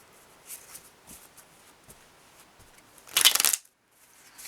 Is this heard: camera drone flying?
no